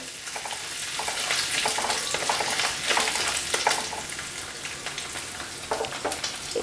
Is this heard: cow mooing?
no